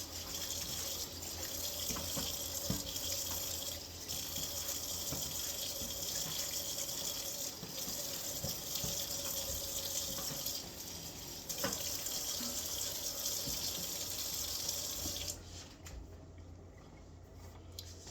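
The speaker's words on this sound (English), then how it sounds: "First, let me rinse it off." Tap water runs steadily into a sink for about fifteen seconds while baby spinach is rinsed for a green smoothie, with soft splashes and leaves shifting under the stream, then the flow cuts off near the end.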